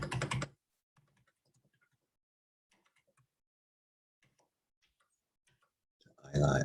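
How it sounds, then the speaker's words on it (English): Arrow keys on a computer keyboard pressed in a sparse series of soft, faint clicks, with talk at the very start and end. "we'll just use the arrow keys on the keyboard right now"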